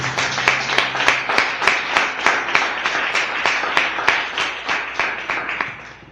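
A church congregation claps in unison during a Spanish-language worship service. The claps land on a steady, quick beat, loud and close, and carry on without a break with no talking over them.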